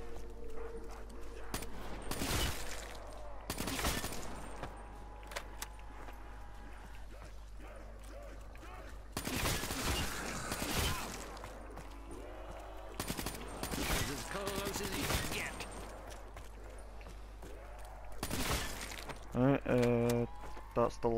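Gunfire in Black Ops 3 Zombies (Shadows of Evil), a video game: several bursts of shots recurring every few seconds over a steady low hum, with a voice talking throughout.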